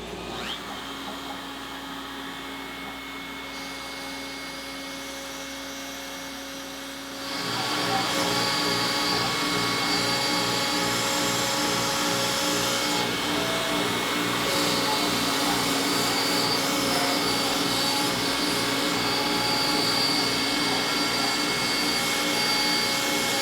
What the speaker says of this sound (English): Turn dust collector on.